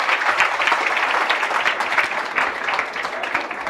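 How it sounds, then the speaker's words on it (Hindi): A gathering honoring a daughter newly ranked in the BPSC exam breaks into loud, dense applause from many hands. The clapping is sustained and close, with a faint murmur of voices underneath. "एक बार जोरदार ताली होना चाहिए।"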